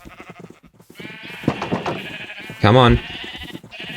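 Sheep bleat in a farming video game, with one loud, wavering bleat standing out among softer animal calls while someone talks over them.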